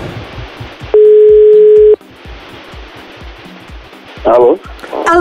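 A single long steady telephone tone lasting about a second as a call connects, loud and clear over music, followed by a shorter burst of phone-line sound, with a voice talking around it.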